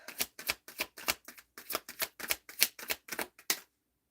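Tarot cards shuffled in a rapid series of about thirteen crisp riffling bursts, close and fairly loud, with no talking, ending in a brief silence.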